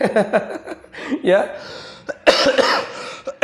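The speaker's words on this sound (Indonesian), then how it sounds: "Maaf ya, saya sedikit batuk." Someone speaking Indonesian during a sermon gives a few short, sharp coughs and throat-clearing sounds between his spoken words.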